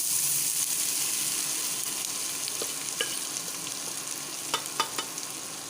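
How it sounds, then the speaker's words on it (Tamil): Boiled, salted green gram goes into a pan for sundal. A steady soft sizzle runs throughout, and a few light spoon taps and clinks against the pan come near the end. "இப்போ நம்ம வேக வச்ச உப்பு கலந்த பாசி பயிரை நம்ம இதில் சேர்த்துக்கலாம்."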